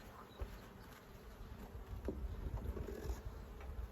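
Honey bees buzzing around a beehive, a steady low drone of many insects with a few nearer passes, faint and continuous outdoors with no talk.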